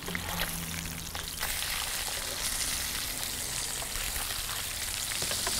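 Fish fillets frying in a pan with plenty of butter, a continuous crackling sizzle with scattered pops, close and fairly quiet, running steadily without speech.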